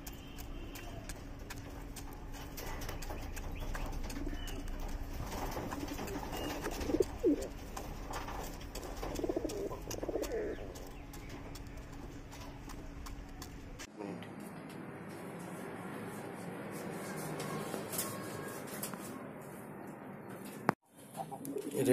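Fancy pigeons of various colours kept for sale coo softly nearby in a few scattered low calls, followed by a quieter stretch of hiss and a sharp bump near the end.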